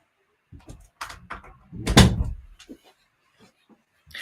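A few faint knocks and shuffles, then a single solid thud as a door is pushed shut nearby, followed by quiet.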